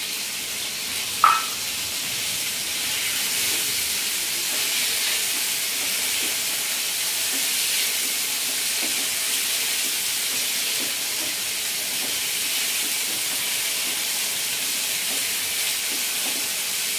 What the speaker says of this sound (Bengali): আমি দিয়ে দিচ্ছি চিকেনগুলোকে ফ্রাই প্যানের মধ্যে